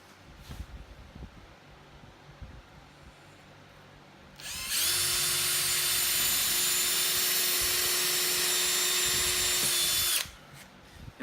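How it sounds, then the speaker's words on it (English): A power drill drives a screw into the wood of a crosscut sled for a DeWALT table saw, a loud steady whine lasting about five seconds after a few quiet bumps, then it cuts off. "let the drill do the work"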